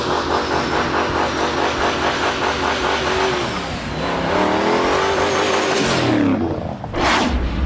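A turbocharged 1971 Oldsmobile Cutlass V8 revving hard, loud and close, with rising and falling pitch sweeps, a brief dip, then a sharp surge, and no talking.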